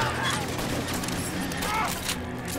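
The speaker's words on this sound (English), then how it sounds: "Reload your gun, Phelps." Video game gunfire crackles as a dense, continuous volley of shots, with a voice talking over the shooting throughout.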